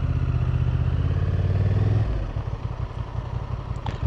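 Engine of a 2025 Honda Transalp 750 motorcycle on a demo ride: a loud, steady revving drone that eases off about halfway, leaving a lower rumble with wind and road noise.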